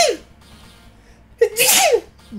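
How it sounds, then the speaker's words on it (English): A single loud sneeze bursts out near the microphone with a sharp inhaled build-up and explosive release, following a quieter vocal exclamation at the start, during a gameplay session of a Pokemon GBA ROM hack. "I'm going to sneeze in a second."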